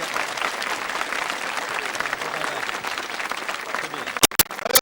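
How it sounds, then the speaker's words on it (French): Studio audience applauding contestants on a 1980 Belgian television game show, a dense continuous wave of clapping that runs the whole time before ending in a few sharp final claps. "Je vais les applaudir."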